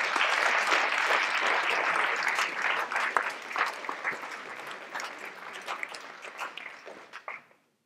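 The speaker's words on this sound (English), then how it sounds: "A big round of applause," An audience at a quarterly partnership gathering claps for a group of presenters. The applause is full at first, then thins into scattered claps and stops abruptly near the end.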